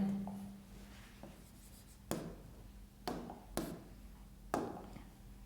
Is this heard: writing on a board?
yes